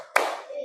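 One sharp hand clap sounds close by, followed by a brief ringing tail.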